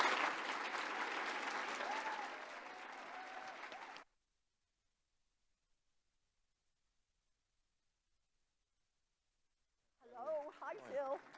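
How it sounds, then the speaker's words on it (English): Audience applause at a legislative conference welcoming a senator to the stage, a steady dense wash of clapping for about four seconds that cuts off into silence before a voice begins speaking. "So let's give a big round of applause."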